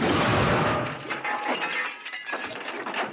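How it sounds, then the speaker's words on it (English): A car smashes into a tree with a loud, harsh crash and a spray of breaking, shattering debris that fades into scattered crackles over about three seconds, with no voices. "I fell to the ground behind a tree, and the car smashed into it."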